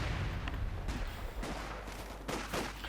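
Company of Heroes 2 battle sounds with scattered gunshots and dull mortar and artillery booms, moderately quiet and somewhat distant, repeating irregularly.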